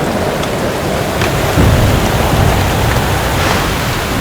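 A squall sweeps over stormy seas with heavy, continuous rain drumming down and low rolls of thunder rumbling beneath it, loud and close throughout.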